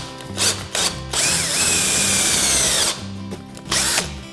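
Electric jigsaw cutting through wood, a sustained loud buzzing cut of about one and a half seconds between shorter bursts, close by and alone.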